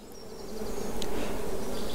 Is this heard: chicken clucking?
no